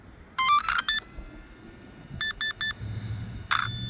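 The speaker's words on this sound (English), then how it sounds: "3 beeps. It's ready." An Arrma Mojave Grom BL 223S RC car's ESC, running on a small 3S battery, gives out clear electronic beeps in several short bursts: a quick group, then a distinct set of three evenly spaced tones, then one more, all outdoors with no talking.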